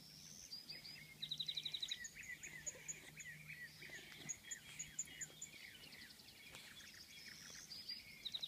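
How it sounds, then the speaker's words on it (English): Several birds sing and chirp in quick repeated trills and tweets on a morning at Cuttin W Ranch, fairly faint against a quiet outdoor background with a low hum, calls overlapping throughout. "The birds are very happy this morning."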